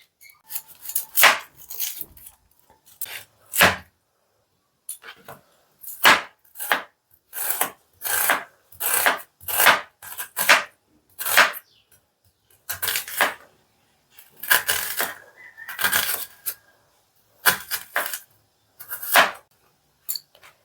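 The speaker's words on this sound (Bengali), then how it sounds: "তো পেঁয়াজ কাটা কমপ্লিট হয়ে গেছে।" Knife chopping an onion on a cutting board, loud close rapid bursts of chops in short runs separated by brief pauses, no voices.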